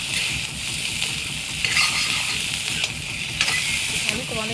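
Egg and potato frying in a pan with a whole onion give off a steady, close sizzle, with faint scraping and clinking from stirring mixed in.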